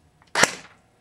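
A G36C airsoft gun fires a single sharp shot of 0.2 gram BBs through a chronograph, a loud crack with a short decaying tail and nothing else around it.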